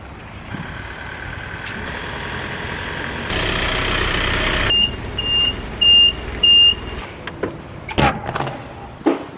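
A hired moving truck drives with a steady engine rumble and road noise, followed by a run of four short, evenly spaced electronic beeps and a few sharp knocks and clunks toward the end; no one speaks.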